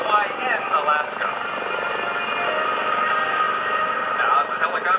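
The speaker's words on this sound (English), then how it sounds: "Now, as the helicopter stabilizes in the hover" A US Coast Guard MH-65C Dolphin helicopter hovers during an airshow search-and-rescue demonstration, its rotor and turbine making a steady, loud, continuous roar with rhythmic chopping texture, heard from a distance outdoors.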